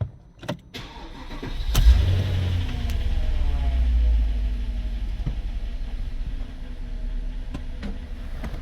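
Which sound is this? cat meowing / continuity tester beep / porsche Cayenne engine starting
porsche Cayenne engine starting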